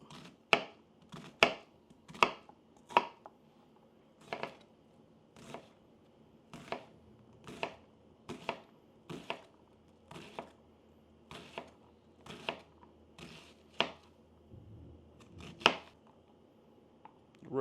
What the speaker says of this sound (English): just chop up this onion. So we're going to dice this up pretty finely